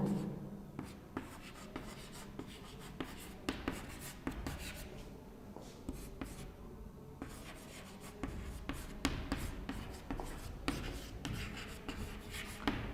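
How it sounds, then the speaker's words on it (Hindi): Chalk or marker scratching across a board during a history lecture, a steady run of short strokes and taps, fairly close but quiet, with no talking over it. "तो मैं लिख देता हूं पेड्रो"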